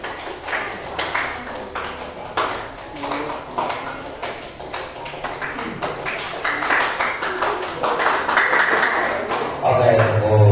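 Classroom applause for a student presentation group, a steady patter of many hands clapping at close range, building toward the end, with no speech over it.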